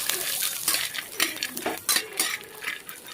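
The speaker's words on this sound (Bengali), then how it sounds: "কড়াইতে ঘি দিয়ে নিয়েছি, তারপরে মাখনাগুলো ছেড়ে দিয়ে ভেজে নিলেই হয়ে যাবে" Makhana (fox nuts) tossed in ghee in a kadai rattle and scrape under a spatula in quick, uneven bursts, with a light sizzle beneath the clatter.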